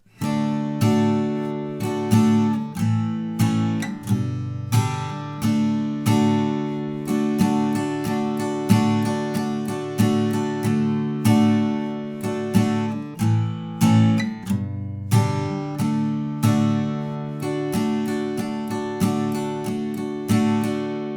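An acoustic guitar strums the chords of a song's verse in a steady, even rhythm, played close and clear with ringing open strings and regular down-up strokes.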